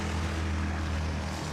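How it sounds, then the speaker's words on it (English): Traffic from a busy highway running right beside the holes of a disc golf course: a steady, continuous rumble with a low droning hum, constant throughout with no voices. "these holes are located right by a fairly busy highway"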